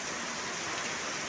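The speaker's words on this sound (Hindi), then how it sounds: "इस साल का बहुत ज़बरदस्त बारिश, मूसलाधार बारिश हो रहा है।" Torrential downpour during a storm at first rainfall in Mandla, a dense, steady roar of rain with no breaks, loud and close throughout the short stretch.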